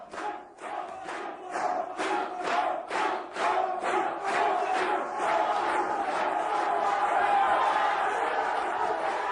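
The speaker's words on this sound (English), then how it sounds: "his fans showing their appreciation for the nightclub bouncer from Rotterdam" Dutch supporters cheer and chant rhythmically for a strongman competitor at the 1988 World's Strongest Man contest, a loud crowd roar building into sustained yelling with a commentator talking over it.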